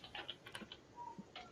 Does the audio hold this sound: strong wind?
no